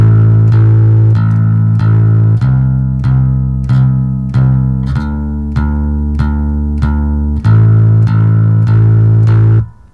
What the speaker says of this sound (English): What we're going to do is we're going to strike the string four times for each note.